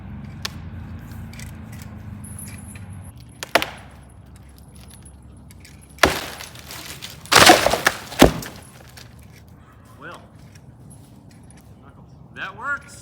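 A cut tree limb snaps and falls, hitting the ground with a loud cracking crash followed by a few lighter thuds and rustles, with people talking nearby before and after.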